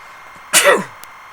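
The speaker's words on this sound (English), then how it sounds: "That snuck up on me, a little sneeze there." A single sharp sneeze, close and loud, bursting out suddenly and fading quickly into quiet.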